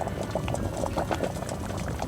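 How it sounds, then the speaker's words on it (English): Hungarian goulash soup boiling in an open pot, a steady close bubbling and popping with no voices. "bring this back to a boil, and just to mimic the cauldron, we simmer gently without a lid for 2 to 3 hours"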